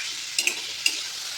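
Onions frying in a pan give a steady, close hiss of sizzling, broken by a few soft clicks of stirring, with no voices.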